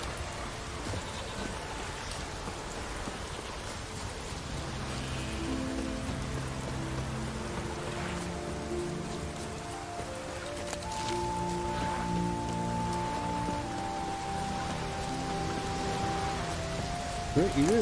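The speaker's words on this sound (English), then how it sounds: "You really should stop standing out here in the rain." Rain falls steadily in The Witcher 3: Wild Hunt, a soft continuous patter under a sustained, layered musical drone that swells partway through, with no speech.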